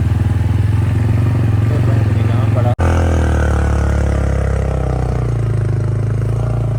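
A motorcycle rumbles loudly along a sandy village road, its engine chugging steadily up close, with a brief dropout partway through and someone talking over the noise.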